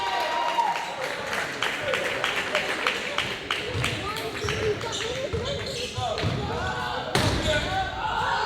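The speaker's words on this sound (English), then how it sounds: "And you can hear the backboard being slapped there." Sharp slaps of a basketball striking the backboard during a game between the New England Lightning and Bridgeport Kings, repeated hits ringing over a busy arena crowd while a commentator talks throughout.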